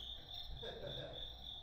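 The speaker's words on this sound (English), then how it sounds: "Crickets." A steady, high-pitched trill of crickets plays on continuously and fairly quietly as a comic sound cue, with a faint murmur underneath.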